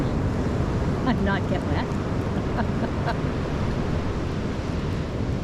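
Ocean waves wash the shore in a constant loud roar mixed with wind buffeting the microphone, while a person speaks briefly over the surf.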